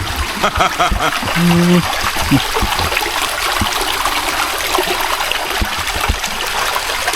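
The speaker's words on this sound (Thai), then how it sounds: "แล้วครับน้ำตกที่ตามหา" Water flows steadily at a waterfall, a continuous broad rushing that fills the whole clip, with brief voices and small knocks on top.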